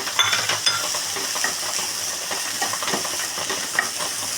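Cooked, salted horse gram is stirred into a mashed tapioca and coconut mixture, making a steady soft hiss with faint scrapes and clinks of a spoon in the pan, close and unaccompanied by speech.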